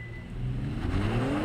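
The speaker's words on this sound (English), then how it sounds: "there, I just launched the Kia and yeah, I'm well over 60 miles an hour" A Kia Stinger launches under launch control at full throttle on a slippery surface, its engine note climbing loud and close as the car accelerates hard.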